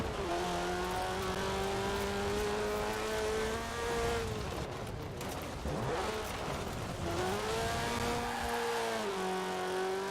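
Rally car in a racing video game, engine revving hard with rising and falling pitch through gear changes, a brief dip mid-way before climbing again, loud and close with no voices.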